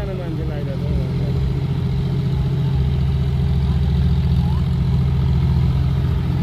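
A tractor engine running while timber is loaded in a rough riverside spot: a steady, close, low mechanical drone throughout, with people talking over it.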